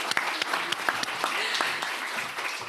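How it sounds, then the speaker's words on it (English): Applause for the panelists at a high-level transparency forum session, a short burst of clapping from the audience, fairly steady and moderately loud with a few sharper individual claps standing out. "I would like to invite an applause to all our panelists."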